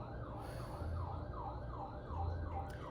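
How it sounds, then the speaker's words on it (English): An emergency siren wails outside in a repeating rising-and-falling sweep, fairly distant and muffled, with a low traffic rumble underneath and no talking. "there's a siren"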